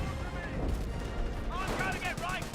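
An artillery barrage in Company of Heroes, a World War II strategy game, rumbles as a steady wash of distant blasts and crackling fire, with talk running over it throughout.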